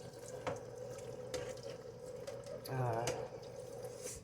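Water runs from a kitchen tap into a sink during dishwashing, a steady faint trickle with soft clinks and splashes, a brief stronger gush near the end, under a quiet voice in the background.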